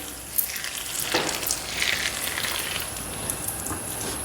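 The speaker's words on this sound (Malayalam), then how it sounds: "ദോശക്കല്ല് ചൂടാക്കുക. അതിന് ശേഷം അതിൻ്റെ ഉള്ളിലേക്ക് കുറച്ച് നെയ്യ് ഒഴിക്കുക." Ghee sizzles on a hot dosa griddle while making a wheat-flour kallappam snack, a continuous close frying hiss with small crackles and a faint scrape near the start.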